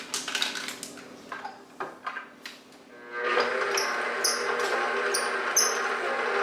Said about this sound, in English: First is creaming the butter.